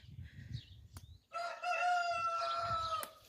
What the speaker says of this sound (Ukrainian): Півні мої співають.